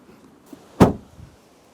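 The door of a GWM Poer 300 diesel pickup shuts with a single solid thud, close and fairly loud, followed by a faint short rattle in an otherwise quiet setting.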